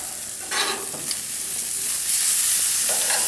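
Tequila lime chicken sears on a grill, a loud, bright sizzle that swells as the pieces are flipped, with scraping stir-like movements and no talk.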